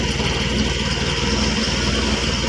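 An engine runs close by after its carburetor repair kit was replaced, idling loudly and steadily with an even, unbroken drone and no stumbling or dropouts.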